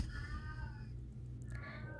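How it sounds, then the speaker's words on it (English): A pet cat screams insistently, wanting to play with the other kittens, its drawn-out wavering yowl rising over a steady low background hum before fading into a faint high chirp near the end. "I'm sorry if you can hear one of my cats screaming."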